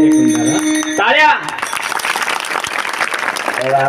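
Audience clapping breaks out during a devotional kirtan performance in a village, dense and fairly loud after a brief stretch of sung and spoken voice, with singing returning at the end.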